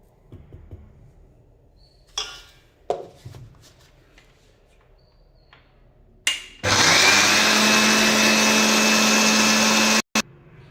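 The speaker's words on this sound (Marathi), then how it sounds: "असं चालू बंद करत आणि खालीवर करून घ्यायचं आहे चमच्याने, जे छान बारीक दळल्या जाते." Coriander seeds ground in a mixer grinder: a few short bursts and knocks, then a loud sustained whirring grind for several seconds that cuts off abruptly, followed by brief final pulses.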